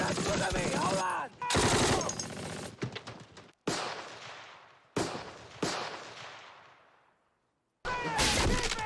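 World War II combat gunfire from the Band of Brothers episode set at Bastogne: loud bursts of machine-gun and rifle fire that cut off abruptly between volleys, with a quiet stretch before a final burst.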